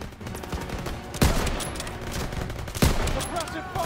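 Wartime battle gunfire in Call of Duty WWII, continuous rattling shots under a busy battlefield mix, with two sharp, loud cracks standing out a second or so apart.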